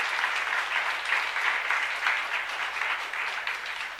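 A church youth congregation bursts into sustained, dense applause from many hands, steady and fairly close, holding for several seconds without a break.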